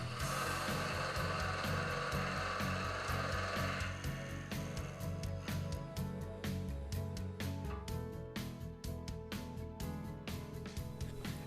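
Wood turning on a lathe with a square cutter, a continuous loud grinding scrape over a steady motor hum, with repeated sharp ticks and chattering cuts as the tool meets the spinning workpiece; no talking.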